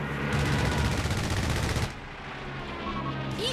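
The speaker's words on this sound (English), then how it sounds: "Strafe coming down here." An aircraft strafing run in Company of Heroes 3 rips out a long, dense burst of rapid machine-gun fire that lasts nearly two seconds, then cuts off. Fainter battlefield rumble and scattered distant shots follow.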